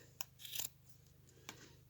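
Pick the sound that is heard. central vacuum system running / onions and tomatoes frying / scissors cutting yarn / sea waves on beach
scissors cutting yarn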